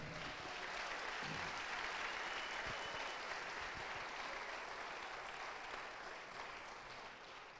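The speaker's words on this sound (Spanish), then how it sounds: "Dale un aplauso al Señor." A church convention congregation applauds, a thick, continuous roar of many hands clapping in a large space, steady and loud at first and easing slightly toward the end.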